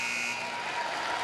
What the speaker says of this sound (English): Out of the corner to beat the buzzer?